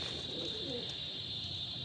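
Pigeons on an open rooftop where grain has been scattered, with soft low cooing murmuring through the clip under steady background hiss and a constant high whine.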